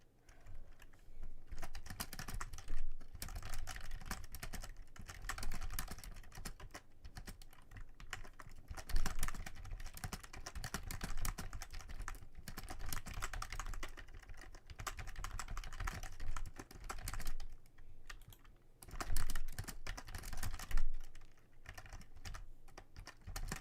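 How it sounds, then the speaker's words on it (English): Rapid, continuous ASMR tapping, dense and close with brief pauses and bursts of louder clicks, sounding much like fast typing on a keyboard, with no talking. "Taping ASMR."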